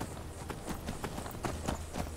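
Horse hooves clip-clop in a steady walking rhythm in the Skyrim video game, soft and fairly close, repeating evenly for a couple of seconds with no voices.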